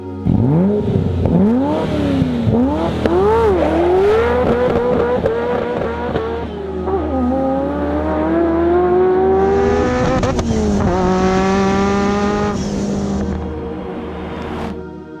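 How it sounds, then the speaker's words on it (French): A Ferrari F40's twin-turbo engine revs hard through repeated rising pulls and gear changes, loud and close, with the turbos coming on strongly partway through and no voices present. "Et d'un coup, les 2 turbos Hiashi se réveillent."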